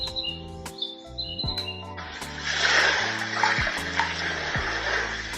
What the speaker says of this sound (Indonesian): Fitur ombak gitu.